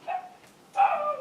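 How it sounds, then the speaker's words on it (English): Two short dog barks, a brief one and then a louder, longer one, heard fairly close and clear. "Just always barking away."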